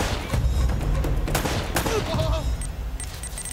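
Gunfire in the video game Uncharted: Drake's Fortune, a loud rapid volley of shots with a booming low end, dense at first and thinning out toward the end.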